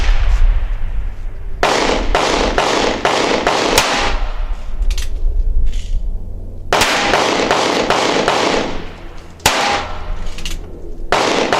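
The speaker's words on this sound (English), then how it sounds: "I'm just going to turn and start shooting." A three-screw Ruger Super Blackhawk revolver fired repeatedly outdoors, sharp loud reports coming in quick bunches with ringing decay and short pauses between strings, no talking.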